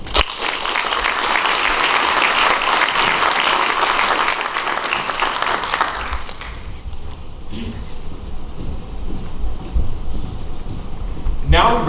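Loud sustained applause from an audience honoring graduates at a class graduation ceremony, a dense roar of clapping for about six seconds that then thins to scattered claps and quiet room noise.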